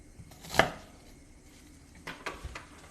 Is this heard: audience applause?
no